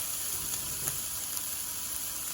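Bourbon chicken sizzling in a frying pan, a steady bright hiss of cooking close by, even and unbroken, with only a few faint clicks and no talking.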